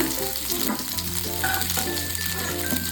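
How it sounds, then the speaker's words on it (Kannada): Vegetables sizzle steadily in a hot pan while cooking kadai paneer, a continuous dense frying hiss with faint stirring clatter, fairly close and uninterrupted by talk. "ನೋಡಿ, ಇಷ್ಟು ಫ್ರೈ ಮಾಡ್ಕೊಂಡ್ರೆ ಸಾಕು"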